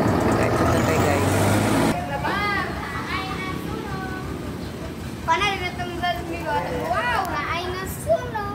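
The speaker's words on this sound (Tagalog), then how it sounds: "Wow, na ay truck nga nag-aso-aso ngano kana siya." A smoking truck on a road passes with a loud rumbling roar at first, then traffic noise continues beneath steady conversational talk and occasional louder exclamations.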